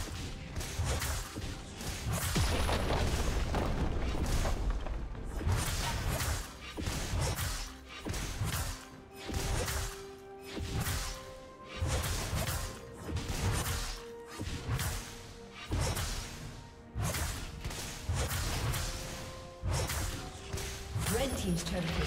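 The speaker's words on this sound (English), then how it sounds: "Red team's turret has been destroyed." A turret being destroyed in League of Legends, heard as loud repeated smashing, crashing impacts and whooshes amid dense game effects, with a voice announcing over the action.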